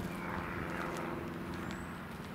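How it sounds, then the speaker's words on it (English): An airplane passes overhead, a steady distant engine drone that hangs in the background at an even, moderate level throughout. "Can you believe it? A plane."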